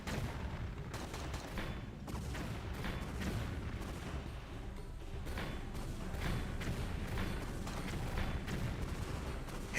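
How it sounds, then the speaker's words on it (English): Cannon fire in a Tomb Raider game blasts explosive shells at dinosaurs on South Pacific islands, with repeated thumping booms and gunfire-like cracks packed densely over a continuous rumbling din. "now we have to use the cannon to shoot like 50 freaking dinosaurs"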